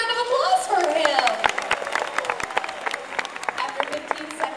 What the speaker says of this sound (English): How about a big round of applause for him?